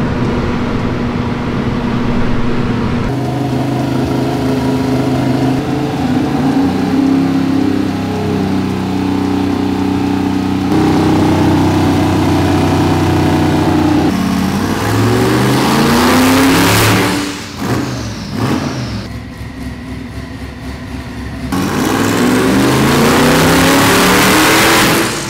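A zero-mile 427 LS V8 running on a dyno during a heat cycle, a loud, steady engine drone that climbs and falls through several revs, ending in a rising rev, with no talking.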